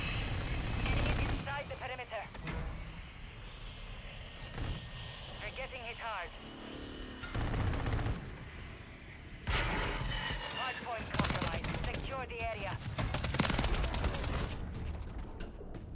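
WSP 9 submachine gun bursts crack out in Modern Warfare 3 multiplayer, with several rapid volleys and clanking handling noises mixed into busy game audio and a voice talking over it.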